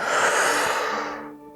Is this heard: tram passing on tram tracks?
no